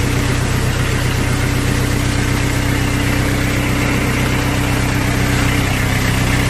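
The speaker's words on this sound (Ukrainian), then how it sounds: "зараз я вам його завожу. Так, 4 працює циліндра." A cold four-cylinder engine of a 40 hp JINMA mini tractor idles steadily at close range, a constant low rumbling drone with a fast, even chug and no voices.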